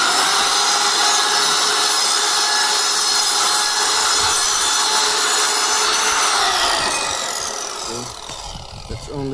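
A miter saw whines loud and steady as its blade cuts partway down to square a piece of wood, a harsh cutting rasp over the motor tone, then the pitch drops and fades as the blade winds down.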